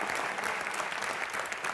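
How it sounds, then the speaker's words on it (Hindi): Dense, steady studio-audience applause for cricketer Sunil Gavaskar on a comedy talk show, a continuous wash of many hands clapping at even loudness with no voices on top. "जोरदार तालियां मिस्टर सुनील"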